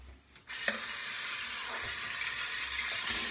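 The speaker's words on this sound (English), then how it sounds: "You just run them under the water really good. Get them wet." Tap water gushes over a synthetic shaving brush. The loud, close, steady rush starts abruptly after a short pause and continues unbroken, with slight splashing changes and no speech.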